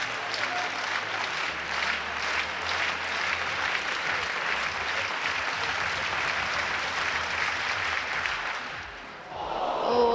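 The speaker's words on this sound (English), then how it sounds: "You can probably hear the crowd cheering him on." Crowd cheering and applauding at an indoor athletics championship, a steady, dense wash of clapping and voices sustained throughout, dipping briefly near the end before swelling again.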